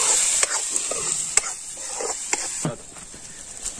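Whole spices frying in oil for mutton masala cooked outdoors in a forest, a steady crackling sizzle with stirring scrapes and occasional sharp pops, close and fairly loud.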